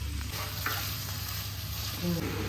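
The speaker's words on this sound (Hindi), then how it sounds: "सबसे पहले हम कढ़ाई में थोड़ा सा बटर और थोड़ी सी हल्दी डाल के पनीर को फ्राई करेंगे।" Paneer frying in butter with turmeric in a kadai, a steady close sizzle with stirring scrapes throughout, no voices.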